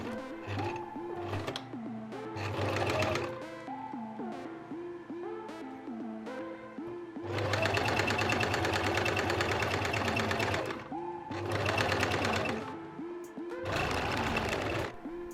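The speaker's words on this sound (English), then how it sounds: "Take the bow tails piece and sew along the line that you just marked." A sewing machine runs in several bursts, stitching a seam on a bow-tail piece for a scrunchie wreath and starting with a back tack, with loud, steady stretches of motor hum and needle rattle separated by brief pauses.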